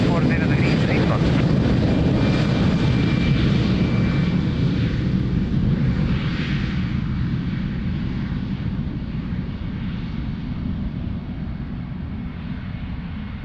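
Airliner engine noise on landing approach at Lisbon Airport, a steady loud low roar that slowly fades over the span, with faint radio chatter in the background.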